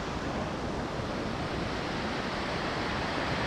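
Low ocean surf at La Jolla washing in as a steady broadband rush, blended with wind, continuous and even, with no voices.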